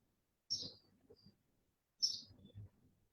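Birdsong played back from a recording in a workshop on nature, experimentation and sound creation: two short bright chirping phrases, each followed by softer low rumbling, with near silence between them.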